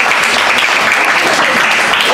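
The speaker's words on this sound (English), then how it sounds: "give Randy a big applause for serving you" Loud, dense applause fills a bar as a crowd claps for a bartender who has been serving drinks and delivering food, a steady close roar of many hands with no talking over it.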